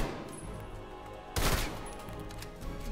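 Gunfire in the shooter game Call of Duty: Black Ops Cold War, a sudden loud broadband burst of shots about halfway through, set against steady game ambience with no talk.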